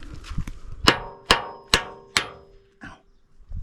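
Hammer tapping on metal on a digger: four loud, ringing clanks in a steady rhythm, with a softer knock after them and a few faint knocks before.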